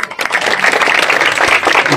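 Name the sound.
applause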